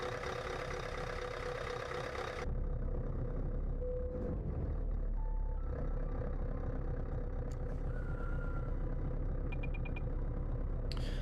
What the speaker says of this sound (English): This engine mod sounds like the engine's been used and abused for quite a while.